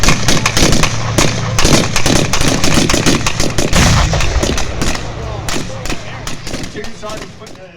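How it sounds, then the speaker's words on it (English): Dense, sustained gunfire from a reenactment fire team laying down a base of fire to support an M4 Sherman tank, loud rapid cracks and bursts overlapping continuously, close and fading slightly toward the end. "They start laying down a base of fire in support of that tank."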